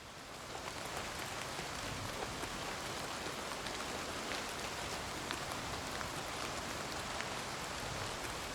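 Steady, dense rain falls in a rainforest-like area of the video game Oblivion Remastered, a continuous close patter on surfaces with scattered sharper drop ticks and no voices.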